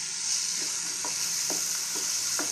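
Fried cabbage, capsicum and carrots being stirred with a cornflour mixture in a pan, several distinct spoon scrapes spaced about half a second apart over a steady sizzle.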